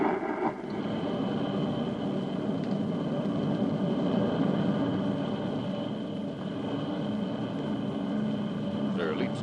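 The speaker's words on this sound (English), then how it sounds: "Thrusting forth tons of energy, the huge rocket engines drive the Space Patrol ship deeper into space," Huge rocket engines on a Space Patrol spaceship thrust in a radio drama, producing a continuous, heavy roar with a faint steady whine that runs unbroken beneath a narrating voice.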